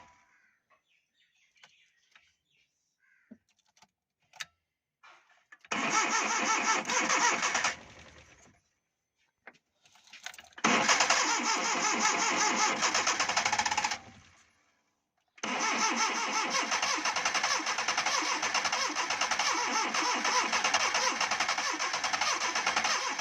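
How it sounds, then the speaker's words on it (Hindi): A Suzuki Bolan's engine cranks and catches three times, each run sputtering for a few seconds before dying without revving, separated by short gaps, recorded up close with a rooster clucking faintly in the background. "गाड़ी स्टार्ट होकर बंद हो जाती है, रेस नहीं पकड़ती।"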